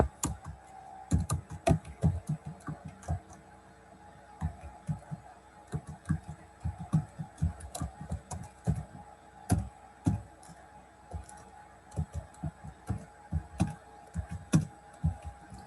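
Rapid bursts of computer keyboard typing, close and clear, with short pauses between runs of keystrokes and no talking over them.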